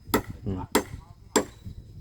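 A hammer drives nails into wood during house construction, with three sharp, close blows evenly spaced about half a second apart and faint knocking in between.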